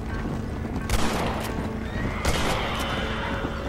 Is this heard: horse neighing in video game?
yes